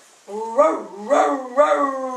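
A dog howl in a read-aloud picture-book story, three drawn-out, wavering howling cries in close succession, loud and near, most likely voiced by the narrator in imitation.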